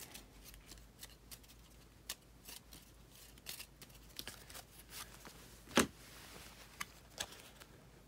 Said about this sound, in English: And then for Gimli, do a little shuffling for him.